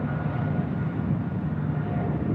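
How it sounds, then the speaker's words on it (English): A China Southern Cargo Boeing 777 rolling down runway 25 left at LAX, a steady distant low roar of jet engines that holds evenly throughout, with no talk. "China Southern Cargo, flight 2538, heading to Guangzhou, a 777 now rolling down, 25 left."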